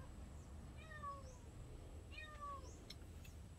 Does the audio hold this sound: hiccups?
no